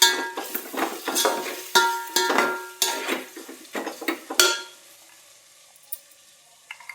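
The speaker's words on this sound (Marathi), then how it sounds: "सगळे मसाले टाकायचे आपल्याला, छान परतून घ्यायचे आता." Spices for khichdi sauté in a pan while a spoon scrapes and stirs in quick, close bursts with a light sizzle beneath, then the stirring stops, leaving a few soft clinks.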